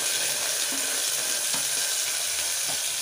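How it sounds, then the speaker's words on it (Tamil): Small shallots fry in hot oil for a bitter gourd curry, a constant crackling sizzle with a few faint spoon scrapes, close and without voices. "சிறு வெங்காயம் போட்டு நல்லா ஃப்ரை பண்ணிவிட்டு"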